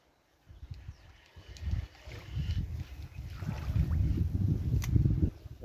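A boat passing on open water, its low wash and rumble building gradually from near silence to a fuller roar, mixed with gusty wind buffeting the microphone.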